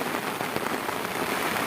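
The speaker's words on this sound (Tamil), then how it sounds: "மழை அடித்து ஊற்றுது, தெரியுதில்ல உங்களுக்கு?" Heavy rain pours down outdoors near grazing cattle and goats, a thick continuous hiss of drops striking the ground, steady and close.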